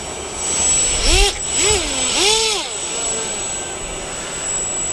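A floating multifunction fishing drone's motor runs with a steady high-pitched whine, with shifting engine noise and nearby voices talking over it outdoors.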